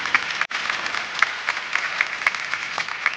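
An audience at a sports federation congress claps in warm, sustained applause, with sharp individual claps standing out now and then from the steady crowd sound.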